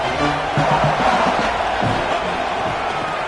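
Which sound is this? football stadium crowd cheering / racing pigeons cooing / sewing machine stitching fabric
football stadium crowd cheering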